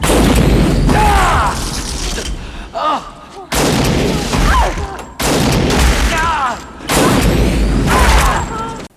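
Gunfire from the action film Adrenalin: Fear the Rush: loud, booming bursts of repeated shots in several long volleys with brief gaps between them, shouted voices and film sound mixed in.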